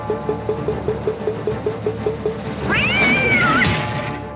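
A cat meow launched as a projectile in a castle-themed pinball game, a loud sweeping electronic yowl after a steady run of rhythmic mechanical ticking, close and clear with no talk.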